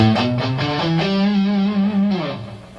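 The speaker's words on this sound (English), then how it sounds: "This one's very similar to, almost identical to a natural minor scale, except there's no 6th." Distorted electric guitar runs a minor scale with no sixth degree, rock lead style, a quick string of sustained notes stepping down and back up, loud and alone.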